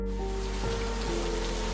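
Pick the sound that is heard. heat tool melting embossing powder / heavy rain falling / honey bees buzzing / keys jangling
heavy rain falling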